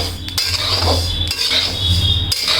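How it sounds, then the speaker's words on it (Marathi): Sesame seeds roasting over low gas in a pan, stirred steadily with a metal spoon that scrapes and clinks against the pan for a few seconds, close and fairly loud with no talk. "भरपूर तीळ आहेत, हे व्यवस्थित भाजून घ्यायचे, करपू द्यायचे नाही"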